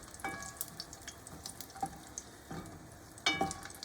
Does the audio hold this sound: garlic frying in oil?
yes